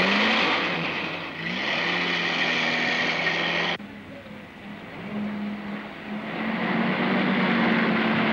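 A car engine runs and revs loudly for several seconds, drops off abruptly partway through, then builds again toward the end, with a steady low rumble underneath and no talking.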